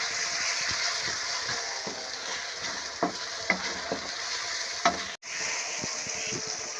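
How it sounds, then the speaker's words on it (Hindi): Finely chopped green chilies frying in a pan with onions, a constant hissing sizzle with occasional soft stirring knocks, close and steady, no voices. "अब डालेंगे इसमें ये सब्ज़ मिर्चें बारीक कटी हुई। थोड़ा सा हम इसे भून लेंगे।"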